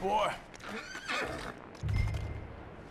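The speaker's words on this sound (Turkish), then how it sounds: "Atı sakinleştirmek için okşuyoruz." A horse in Red Dead Redemption 2 gives a short, close whinny, followed by a low snort or rumble, while a voice talks.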